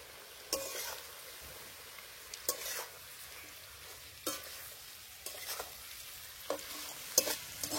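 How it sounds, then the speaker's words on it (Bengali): Potatoes and jackfruit stir-fried with turmeric for a vegetarian dish, a spatula scraping and stirring in a pan at irregular intervals over a soft, steady sizzle, with no talking. "আলু আর ইঁচড়গুলো কষতে কষতে একদম কমে গেছে"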